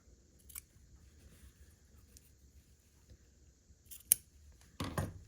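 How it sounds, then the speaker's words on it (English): Scissors trimming fabric overhangs off a quilt block, heard as a few faint, sparse snips in a quiet room, ending with a brief louder cluster of cutting and handling noise. "We're going to trim these 2 overhangs off."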